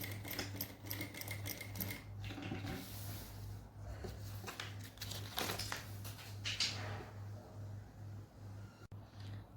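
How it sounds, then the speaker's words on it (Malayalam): A sewing machine stitches straight-leg pants fabric in a steady run of rapid mechanical clatter, with brief pauses and restarts and a constant low motor hum beneath. "ഈ പീസ് നമുക്ക് സ്റ്റിച്ച് ചെയ്തെടുക്കാം."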